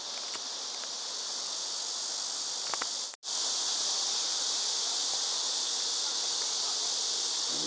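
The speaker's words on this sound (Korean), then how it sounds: "매미 소리는 아주 대단하네" Cicadas buzz intensely at a park arboretum beside a lake, a loud continuous high-pitched drone broken by one brief cut partway through, with no talk.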